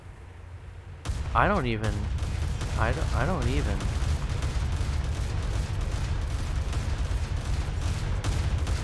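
Naval gunfire and shell impacts in a sea battle game, a sharp blast followed by sustained rumbling booms and a rolling barrage, with someone speaking briefly over the din.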